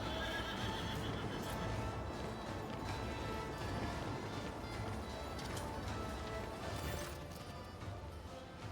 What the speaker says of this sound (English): Governor Rualdo, a richly dressed man riding a sinewy horse, breaks off from the procession.